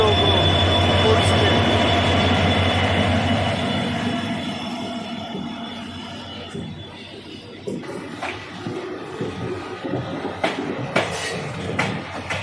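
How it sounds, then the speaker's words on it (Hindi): A passenger train, the Corbett Park Link Express from Ramnagar to Jaipur, rolls into Dausa Junction with a loud, steady rumble of wheels on rail that eases off, followed by scattered clanks and squeals as it slows. "Train is arriving at Dosa Junction."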